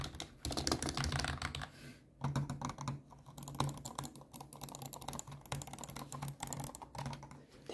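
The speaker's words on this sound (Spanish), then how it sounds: "Tengo este teclado que es Red Dragon, que lo compré especialmente para el canal." Typing on a Red Dragon computer keyboard, a fast, dense patter of keystrokes close up in bursts with short pauses between, no talking.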